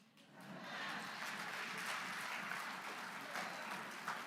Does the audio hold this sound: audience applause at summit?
yes